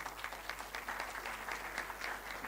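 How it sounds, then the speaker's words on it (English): Applause from graduates at an engineering institute convocation ceremony, a soft, steady patter of many hands clapping in a large hall, faint and distant over a low hum. "Clap for your peers."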